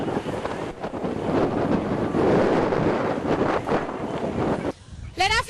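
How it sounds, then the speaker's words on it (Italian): Strong wind gusts buffet the microphone during a flood in Venice, a loud continuous roar with surging peaks and likely water and boat noise beneath, ending with a brief quieter moment and a sharp whistling tone. "Le raffiche di vento, come potete vedere,"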